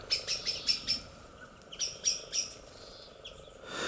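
Small birds chirp in a snowy cottage woodland garden where oats are scattered for feeding, bright repeated calls in two bursts of four or five quick notes with a pause between, fairly near and clear.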